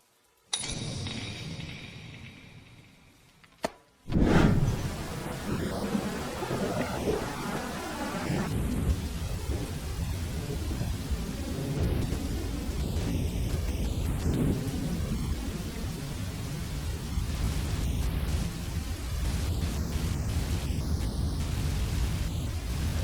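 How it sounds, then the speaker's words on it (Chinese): Steady heavy rain falls outside at night after a sharp crack, with rumbling thunder; a dense, continuous wash of sound that holds for the whole stretch with no voices. "外面在下雨"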